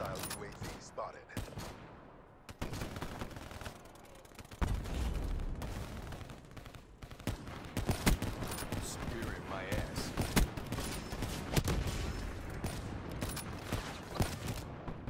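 Rapid bursts of automatic gunfire and shots in Black Ops 3, a multiplayer shooter video game, crackling loudly and near across the whole stretch with a few pauses, under occasional talk.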